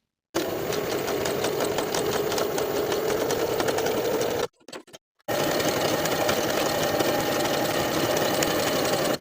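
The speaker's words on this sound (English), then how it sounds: "Sew both seams at 5/8 of an inch." A sewing machine runs steadily at speed, stitching the side seams of a jersey knit waistband, with a brief pause partway through before it resumes its fast, even clatter to the end.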